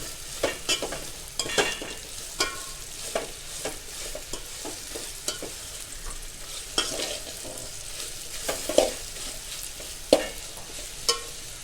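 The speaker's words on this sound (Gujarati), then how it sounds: "ધીમા ધીમા તાપે તેલમાં એકદમ કડક થઈ જાય રોટલી, સરસનું કડક ત્યાં સુધી" Roti pieces frying until crisp in oil over a low flame, a soft steady sizzle broken by frequent close scraping and clinking strokes as they are stirred.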